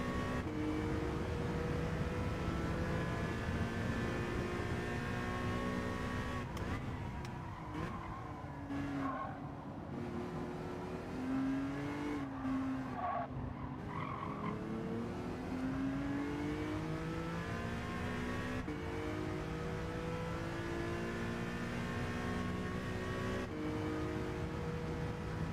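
Race car engines in a Gran Turismo 7 daily race at Trial Mountain, steady and droning with pitch rising and falling through gear changes, faint tire squeal and no talk.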